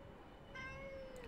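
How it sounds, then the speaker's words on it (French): A 13-year-old pet cat gives a single drawn-out, rising-then-falling meow, fairly faint against a steady background hiss in a garage during a Peugeot Citroën clutch repair. "Ça c'est mon chat, attention."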